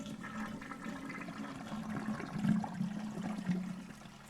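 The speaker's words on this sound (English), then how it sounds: "I hear the sound of dirty water being dislodged and hit something hard. It sounds just like the toilet from upstairs." Dirty water gurgles and rushes down a drain pipe like a toilet flushing in the horror video game Death Mark, a low churning swell that builds midway, alone and moderately quiet.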